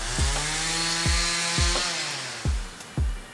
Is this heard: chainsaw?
yes